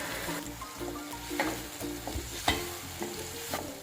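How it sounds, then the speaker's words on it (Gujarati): Tomato chutney with turmeric bubbles and sizzles in oil, with a rhythmic series of spoon stirs and scrapes against the pan over a soft continuous fry, close and fairly quiet. "હવે આ ચટણીને આપણે તેલ છૂટું પડી જાય ને ત્યાં સુધી આપણે તે ઉખવા માટે રાખી દઈશું"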